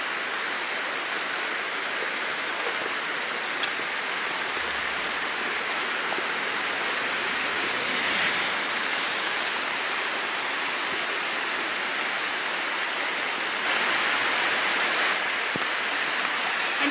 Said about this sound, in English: From down here, you can see the little waterfalls.